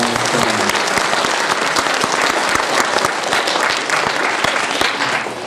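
An audience at a school academy event applauds the Slovácké theatre, dense sustained clapping from many hands, loud and even throughout with no speech over it.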